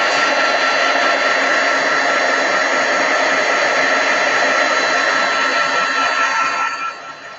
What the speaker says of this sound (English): I'm just going to give that a quick heat.